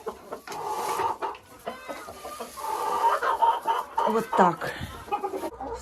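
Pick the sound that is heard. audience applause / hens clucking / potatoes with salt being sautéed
hens clucking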